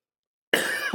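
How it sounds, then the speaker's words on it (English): A single close, sharp cough bursting in after silence, followed by a brief throat-clearing catch at the end. "Sorry, I coughed."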